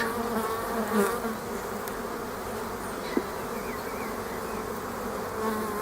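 A steady, dense buzz of many honeybees in a hive close by, droning continuously with no voices.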